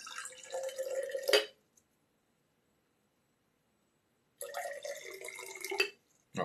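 Water being poured off while tea is made, a steady splashing trickle for about a second and a half, then silence, then a second pour of similar strength before stopping, close by.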